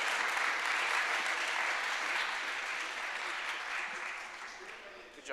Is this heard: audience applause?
yes